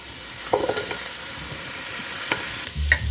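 Butter sizzles in a heated Dutch oven for shrimp stock, giving a steady, close hiss with a few small pops and stirring scrapes and no talk.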